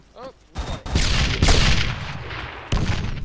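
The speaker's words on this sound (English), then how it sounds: "there's a rifle close" Close rifle shots in the Arma 3 video game ring out as a few loud, sharp cracks, each with a short echoing tail, after a brief voice at the start.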